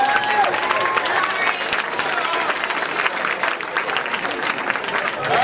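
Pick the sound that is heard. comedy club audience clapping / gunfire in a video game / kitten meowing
comedy club audience clapping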